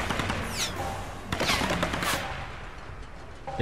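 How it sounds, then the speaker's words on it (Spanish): Rapid bursts of gunfire in the video game Tomb Raider crackle steadily throughout, with a louder volley near the middle and a sharp shot at the end. "Escucho los disparos, pero no los veo."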